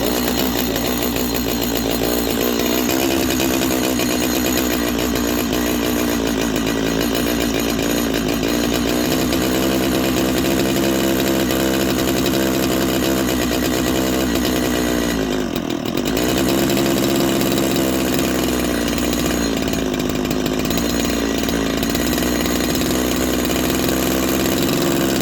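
A Holzfforma G255 chainsaw runs continuously and loud while being carburetor-tuned, its engine pitch rising and falling slightly as the RPM shifts, with a brief dip near the middle before it steadies again.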